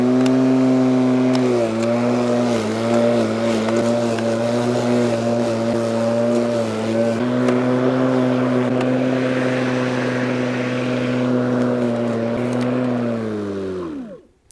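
A Litheli EASYSURGE self-propelled electric lawn mower cuts grass at cutting level 4 and top speed, its motor holding a loud, steady hum with slight dips in pitch before it winds down and stops at the end.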